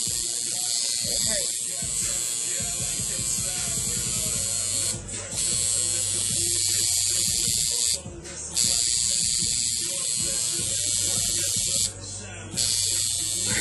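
A tattoo machine buzzes steadily at close range during a tattoo session, its drone breaking off briefly three times, with voices faintly underneath.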